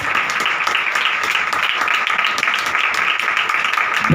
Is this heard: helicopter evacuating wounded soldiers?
no